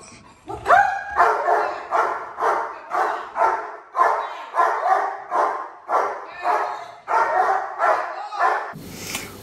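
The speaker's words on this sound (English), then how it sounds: "One of the reasons that we are encouraging a very passionate bark" A residential guard dog barks passionately as a warning, about a dozen loud, close barks in a steady, evenly spaced rhythm with a few whimpering yips at the start.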